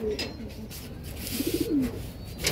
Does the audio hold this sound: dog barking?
no